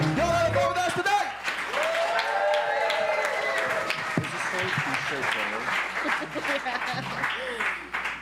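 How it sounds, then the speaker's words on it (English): A small crowd at a musical comedy show claps and cheers after a performance, with loud, close clapping mixed with voices talking and calling out throughout. "Big round of applause."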